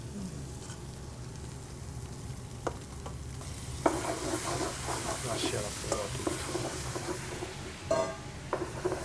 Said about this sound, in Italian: Il vino è già tutto evaporato, okay? E possiamo andare ad aggiungere il pomodoro.